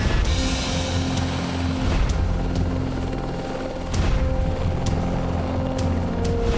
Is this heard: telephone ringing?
no